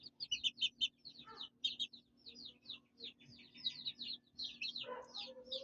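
Newly moved chicks in their coop peep in rapid, high, overlapping chirps. The flock sounds close but quiet, with a few lower clucking notes now and then.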